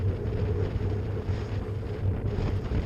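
Steady, loud wind buffeting a microphone as a cyclist rides straight into a headwind in an echelon during a classic road race, a continuous low roar with no voices.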